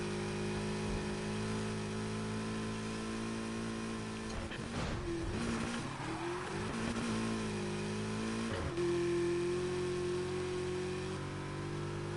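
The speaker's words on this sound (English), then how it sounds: "This car sounds pretty good. I'm pretty sure this normally comes with a V8" A V8 car engine in Need for Speed Heat drones steadily, its pitch dipping and swelling as it revs through a shift midway, then holding a higher note.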